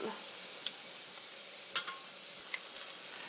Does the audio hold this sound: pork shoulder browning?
yes